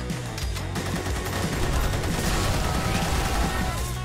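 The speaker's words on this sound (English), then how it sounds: "Where are they shooting us from? I can't even see them." Dense, continuous gunfire from the Vietnam expansion of the Magicka video game: rapid automatic bursts and booming shots overlapping into a steady loud barrage for about four seconds.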